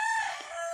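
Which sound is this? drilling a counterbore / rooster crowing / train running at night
rooster crowing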